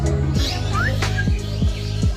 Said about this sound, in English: Oh, what a unique color bird.